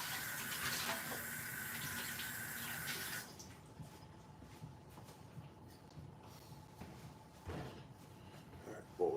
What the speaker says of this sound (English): I will be right back as soon as I finish washing